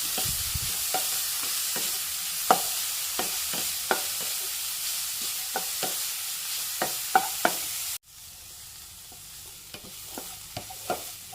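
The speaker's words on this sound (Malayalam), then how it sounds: "ഈ ബാക്കിയുള്ള നെയ്യിലൊന്ന് വഴറ്റിയെടുക്കാം" Grated carrot frying and being stirred in leftover ghee for carrot payasam, a steady sizzle with repeated spoon scrapes against the pan, close and clear, with no talking.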